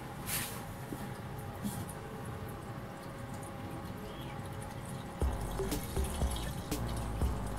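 Water trickles and drips through a PC case water-cooling loop with a pressure-cooker reservoir as it fills, a soft steady flow with scattered drops that grows a little louder and busier toward the end.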